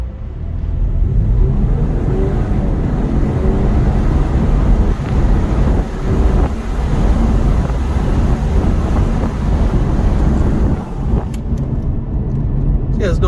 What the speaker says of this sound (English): I can do an acceleration, listen to the exhaust noise